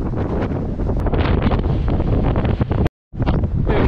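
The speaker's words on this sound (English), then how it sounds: "A bit windy" Strong wind at a beach roars and buffets across the microphone in a constant rough rush, briefly cutting out near the end before gusting back.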